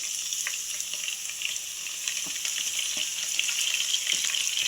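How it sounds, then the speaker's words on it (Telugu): Grated carrot frying in a pan gives a steady, close hiss of sizzling with scattered light crackles and faint scraping, continuous throughout with no voices. "ఓ పావు కిలో క్యారెట్ తీసుకొని తులుము పట్టానండి ఈ తులుము దీంట్లో వేసుకోవాలి"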